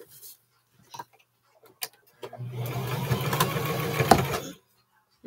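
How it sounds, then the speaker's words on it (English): A sewing machine runs steadily for about two seconds, top stitching along the front panel of a pair of shorts, preceded by a few faint clicks and handling noises at close range. "we're just sewing a top stitch along the front part of that panel"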